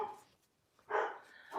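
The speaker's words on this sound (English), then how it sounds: "I'm sorry that my dog is barking because my husband is coming home." A pet dog barks indoors at home in a couple of short, loud bursts separated by a quiet pause.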